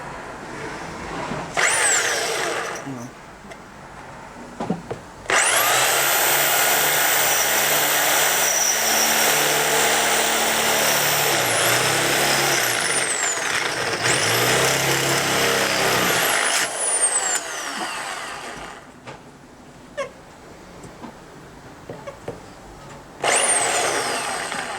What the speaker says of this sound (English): Drilling holes after the drill's plugged in.